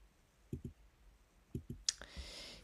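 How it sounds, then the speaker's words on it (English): Mouse clicks while stepping through a Node-RED setup on Linux, in two quick double-click pairs about a second apart, followed by a brief burst of louder clatter and a short hiss; no voices. "Basically just need to click through these steps."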